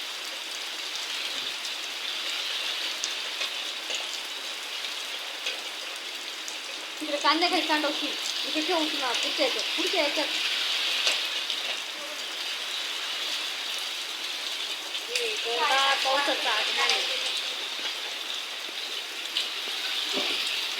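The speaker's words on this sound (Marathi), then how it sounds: "आमच्याकडे तर भरपूर पाऊस आणि तब्बल एक तासापासून पाऊस" Heavy rain with strong wind pours down steadily as a loud, continuous hiss throughout, while a person talks over it in two stretches.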